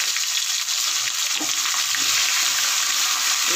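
Ginger and curry leaves sizzle in hot oil for a hotel-style curd rice tempering, a loud, steady frying hiss with faint crackles and no talk.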